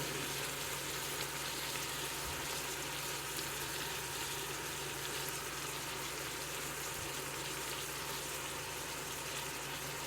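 Ground meat browning in a Ninja Foodi for shepherd's pie, a steady, even sizzle and bubbling hiss that stays constant and fairly faint throughout, with no talking.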